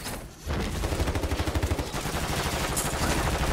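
Rapid bursts of gunfire in the video game Call of Duty Modern Warfare III, with loud, steady rhythmic volleys that continue almost without a break.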